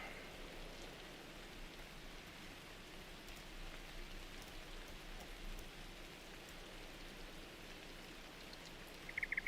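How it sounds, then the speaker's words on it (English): Steady rain in the video game Tarkov, a soft continuous hiss of drops falling on surfaces, even and moderately faint throughout with a brief sharp metallic click at the very end. "I'm not super keen on the rain right now."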